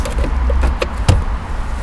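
The glovebox of a Renault (Dacia) Jogger Essential drops open with one solid clunk midway, over a steady low cabin rumble.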